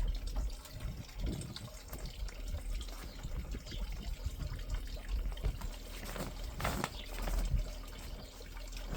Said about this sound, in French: Là on voit qu'il y a un remplissage du réservoir vers le haut.